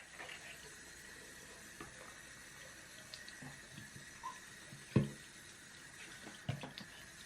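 A makeup brush cleaner is rinsed under a running tap, giving a steady, faint wash of water with a few soft knocks and splashes near the end.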